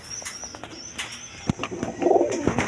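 A pure Basiraj Poka pigeon coos in soft, low pulses, mixed with faint chirps and a brief flutter of wings from other pigeons close by.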